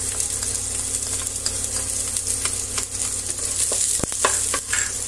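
Onion sautéing in a pan for a Filipino-style macaroni soup, a steady loud sizzle throughout with scattered stirring clicks and scrapes, close and uninterrupted.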